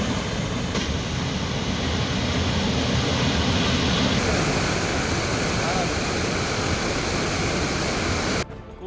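After heavy rain, the swollen Solaiyar Birla falls pours down as a dense, unbroken roar that fills the whole scene at a steady loud level, then cuts off abruptly near the end.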